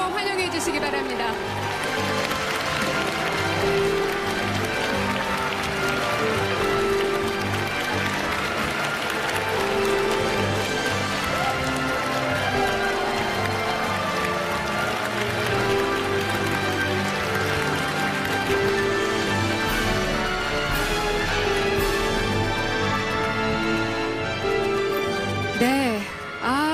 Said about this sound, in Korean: 더욱 뜨거운 박수로 환영해 주시기 바랍니다.